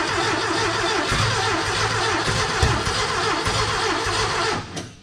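A green Porsche 914 with a 2-liter engine cranks and catches, then runs with a rough, steady mid-pitched idle and small throttle blips, loud and close throughout before dropping off near the end.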